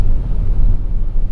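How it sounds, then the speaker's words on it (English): Steady low rumble of road and wind noise inside a 2024 Hyundai Ioniq 6 Limited AWD electric sedan cruising at 65 mph on the freeway, a constant dull roar with no voices. "What you're hearing is the Ioniq 6's actual interior noise at 65 miles per hour."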